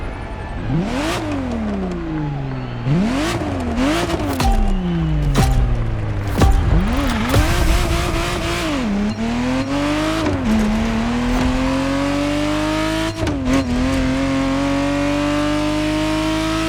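Ferrari Testarossa engine in the video game The Crew Motorfest on PS5, revving loudly and repeatedly climbing through gears with sharp drops between shifts, then settling into a sustained high-pitched drone, close and alone.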